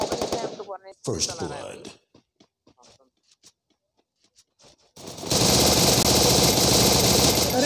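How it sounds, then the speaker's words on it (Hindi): MP40 submachine gun fire in a video game comes in rapid close bursts, then a few scattered shots, then a long, loud, sustained stream of automatic fire. A voice speaks briefly over the early shots. "आओ चलाने दो गोली इनको।"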